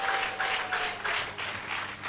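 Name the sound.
church congregation clapping for the Lord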